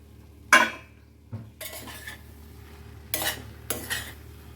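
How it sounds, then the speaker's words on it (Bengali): A metal lid lifted off a pot of masoor dal chorchori simmering on low heat, with a sharp clank followed by several clinks and scrapes of utensils against the pot, close and alone. "10 মিনিট পর ঢাকা খুলে দেখি এটা হয়েছে কি না।"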